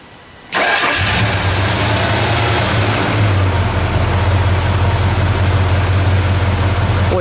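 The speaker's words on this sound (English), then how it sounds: "Let me listen to it idle." A Ford 460 V8 engine with ceramic-coated exhaust manifolds in a Mercury Montego MX Ranchero cranks and fires up, then settles into a steady, deep, smooth idle that continues loudly to the end.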